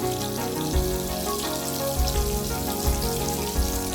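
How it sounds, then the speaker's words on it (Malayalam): Carrot pieces frying in oil in a pan for a vegetable pola, turned over part way, give a steady close sizzle with soft low bumps as the pieces shift, and no voices. "ഇതിപ്പോൾ ഇതാ തിരിച്ചും മറിച്ചിട്ടിട്ട് നമുക്കൊന്ന് ഒരു ഹാഫ് വേവിന് വേവിച്ചെടുക്കാം"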